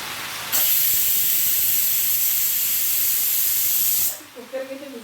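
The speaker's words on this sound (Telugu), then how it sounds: "కుక్కర్కి అయితే విజిల్ నేనే లాగాను" A pressure cooker of dal with greens releases steam in a sudden loud, continuous hiss once its whistle is pulled, lasting several seconds and then cutting off, followed by faint background sounds.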